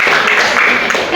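A classroom audience of teachers and students claps during an Islamic lesson, a loud, dense, continuous burst of applause lasting about a second.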